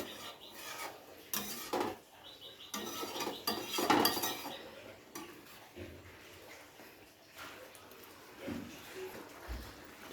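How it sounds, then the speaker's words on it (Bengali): Spices stirred with a little water in a pan for a Bengali tel potol (pointed gourd) curry, close scraping and rasping of a utensil against metal in uneven strokes, with occasional clinks. "সামান্য একটু জল দিয়ে খুব ভালো করে মশলার সাথে মিশিয়ে ফুটতে দেব।"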